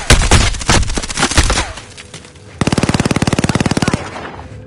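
Video game gunfire: loud close shots in a burst, then a brief lull, then a long rapid machine gun volley of evenly spaced cracks before it stops.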